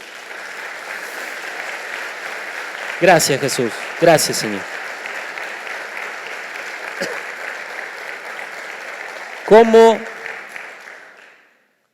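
Church congregation applauding during a Spanish-language sermon, a steady wash of clapping throughout, with a few loud voices calling out over it now and then before it fades at the end.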